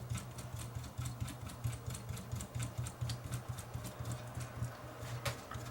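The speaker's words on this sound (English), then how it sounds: "I'll run it through the motions outside of the unit by hand, make sure that nothing is sticking, which I can do just by turning the loading pulley" A Fostex D10 DAT deck's loading mechanism is turned by hand via its loading pulley outside the unit, giving a steady run of soft, rapid mechanical clicks and ticks over a low hum, close and fairly quiet.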